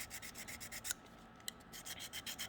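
A hand sharpener rubs along the blade of a FELCO 13 hand pruner in quick, repeated strokes. The strokes are faint and close, with a brief pause in the middle.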